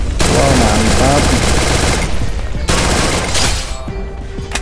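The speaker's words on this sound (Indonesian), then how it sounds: "ada nembak lagi dari arah belakang guys" Loud, rapid bursts of automatic gunfire rattle almost without pause in the Free Fire mobile shooter, with shots coming from behind the player and a few heavier booms mixed in before the firing thins out near the end.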